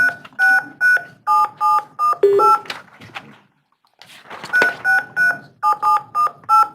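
Telephone keypad tones dialing a long-distance number and account code, crisp beeps in quick bursts with a short pause mid-sequence, loud and close.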